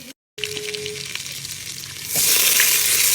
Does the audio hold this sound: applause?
no